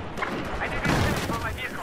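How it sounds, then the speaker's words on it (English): Gunfire in the Battlefield 4 multiplayer game, a dense, continuous rattle of shots and booms close by, mixed with overlapping talk throughout. "I'm hearing a lot of gunfire"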